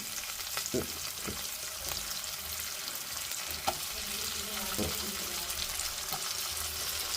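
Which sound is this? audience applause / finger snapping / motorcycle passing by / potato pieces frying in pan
potato pieces frying in pan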